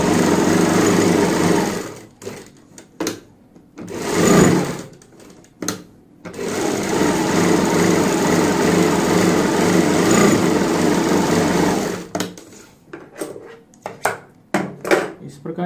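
A sewing machine stitches buckram onto a kurti neck, running in long steady whirring stretches broken by short pauses and stops, close and loud, with someone talking in between.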